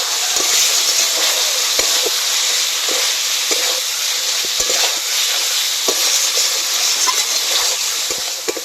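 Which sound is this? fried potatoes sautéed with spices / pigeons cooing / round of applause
fried potatoes sautéed with spices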